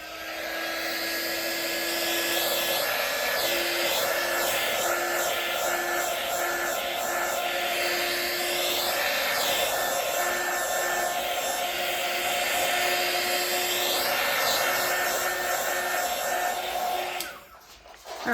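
A heat gun blows hot air over wet acrylic pour paint in a steady, loud, close rushing whine with a constant tone. It runs unbroken for about seventeen seconds, then cuts off near the end.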